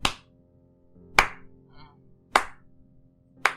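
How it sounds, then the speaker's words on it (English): Slow clap of a single pair of hands, four sharp, isolated claps spaced about a second apart in a quiet room, each ringing briefly before silence. "the slow clap"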